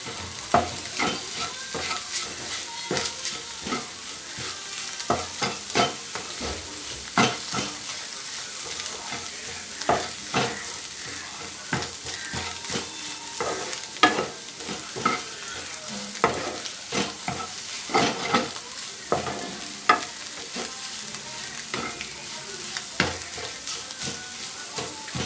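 Egg rice frying in a pan with turmeric and chili powder keeps up a continuous close sizzle, broken by frequent scraping and clinking strokes of a spoon as it is stirred.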